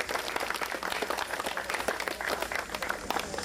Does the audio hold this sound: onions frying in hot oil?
no